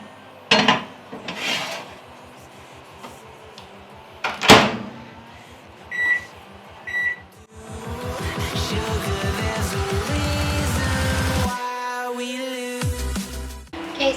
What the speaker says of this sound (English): And I will put all of that into the microwave to defrost.